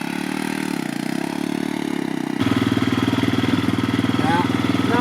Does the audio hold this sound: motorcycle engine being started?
yes